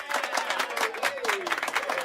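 Short burst of clapping for a fantasy football talk show host, steady and fairly close, with a sustained tonal voice-like sound running through it.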